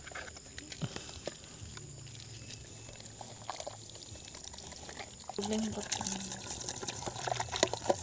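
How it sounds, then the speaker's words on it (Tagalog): Water pours and splashes steadily with clinks of dishes being washed at a campsite, growing louder toward the end, close by with occasional voices in the background. "Tapos hugas kami ng pinggan din."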